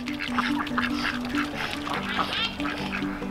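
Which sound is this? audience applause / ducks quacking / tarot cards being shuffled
ducks quacking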